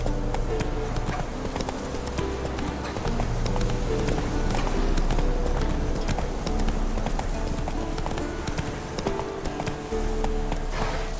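Roach, the horse in The Witcher 3: Wild Hunt, gallops steadily with rapid rhythmic hoofbeats close by, layered over a dense, loud game soundscape of wind and music that runs the whole time.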